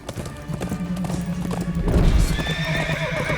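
Horse hooves clip-clop in a steady run in an animated X-Men '97 episode scene, with a horse whinnying over low rumbling, loud and close throughout.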